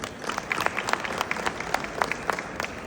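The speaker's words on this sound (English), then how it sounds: "A big applause for your families" An audience at a company gathering claps for the families, a moderate burst of individual hand claps with distinct sharp spikes standing out over a softer, steady layer of applause.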